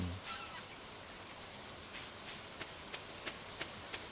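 Steady rain falls in the Stardew Valley video game, a dense, even hiss with a few soft droplet taps near the end, unbroken by talk.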